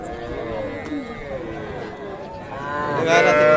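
Calves mooing several times at a cattle market, low drawn-out calls close by, with a louder bellow near the end over a busy crowd murmur.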